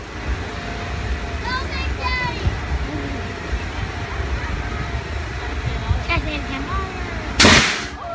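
A Megabot giant robot's arm cannon fires at an art car at an outdoor maker fair, one sharp loud burst near the end after crowd chatter and a commentator's voice.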